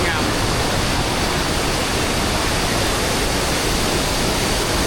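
Water pours continuously down the Tad Xay Wa waterfall in Thulakhom, Vientiane Province, Laos, after recent rain, forming a loud, unbroken broadband rush close by.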